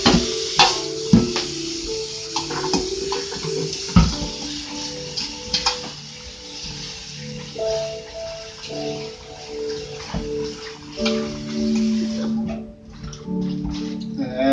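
Water sloshes and splashes in a bowl as raw potato slices are swirled and rinsed, with tonal hum and clinks in the background.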